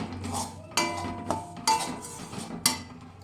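A spoon stirs puffed rice powder into milk in a bowl, making quiet scraping swirls punctuated by four or five sharp clinks against the dish.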